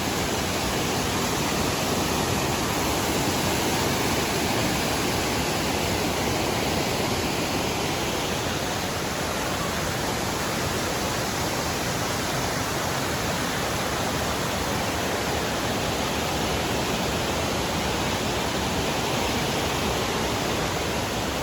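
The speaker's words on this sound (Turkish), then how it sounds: "şelalenin bu kısmına ben bayıldım. Muhteşem görünüyor." Yeşilköy waterfall pouring in a steady, dense rush of falling water, loud and close and unchanging throughout, with no voices.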